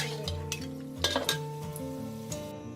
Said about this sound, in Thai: ให้เราปิดแก๊สเลยนะแล้วเราก็คนต่อค่ะ